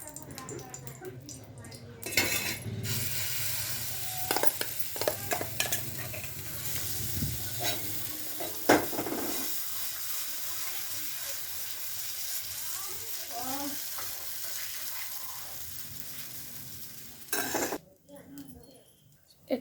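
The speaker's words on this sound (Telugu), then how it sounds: "దాంతో మా పెద్దమ్మ దోశలు వేస్తుంది." Dosas cook on a pan, with a soft frying sizzle, stirring and repeated clinks and scrapes of utensils against the pan. A voice speaks at times under the kitchen noise.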